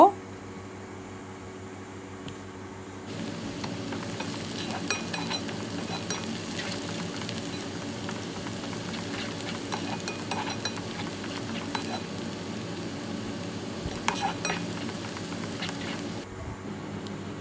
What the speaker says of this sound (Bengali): একে একে পেঁয়াজ সবগুলো এই তেলের মধ্যে দিয়ে দিব পেঁয়াজগুলোকে একটু লাল লাল করে ভেজে নিব